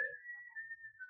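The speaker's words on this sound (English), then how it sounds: "Cut out that whistling, Judge." A night watchman whistles in an old radio comedy, a single faint, steady whistled tone held for about a second.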